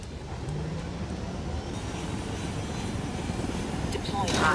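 A helicopter in the video game Ghost Recon Wildlands gives off a steady, rumbling rotor and engine drone that holds at an even level throughout, with a brief brighter swell at the end.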